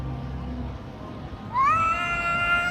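Stray cats fighting outdoors, a low growling rumble that rises into a loud, sustained wailing caterwaul from one cat, close and harsh.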